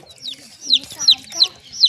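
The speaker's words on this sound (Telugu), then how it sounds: "చిట్టి చిట్టి కోడి పిల్లలండి" Small baby chicks, colourful and yellow, pink, red and green, chirping in a run of high, rising peeps about every third of a second, close and clear, with a few soft clucks and low murmurs underneath.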